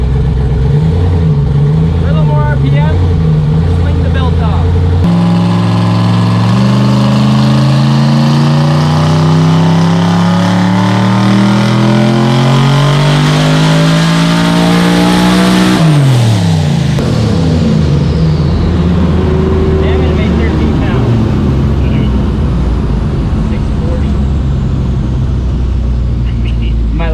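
A gasser race car engine revs loud and close in second gear, climbing steadily in pitch, then dropping sharply and settling into a rough idle, with people talking over it.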